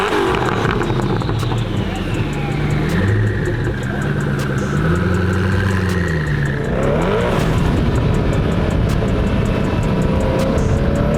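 A Ferrari LaFerrari engine rumbles loud and close, its pitch rising and falling through revs before a sharp surge near the end, with voices speaking over it.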